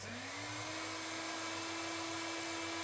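A hair dryer runs on a Jackery Navi 2000 power station, its motor spinning up in the first moments and then holding a steady, close whirring drone with a high airy hiss throughout.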